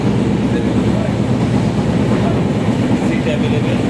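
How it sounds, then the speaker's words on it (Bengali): The Haldibari–Sealdah Darjeeling Mail runs after leaving New Jalpaiguri, a loud, steady low rumble of rolling carriages heard from inside the train, continuous and unbroken. "হলদিবাড়ি শিয়ালদা দার্জিলিং মেল ছেড়ে দিয়েছে"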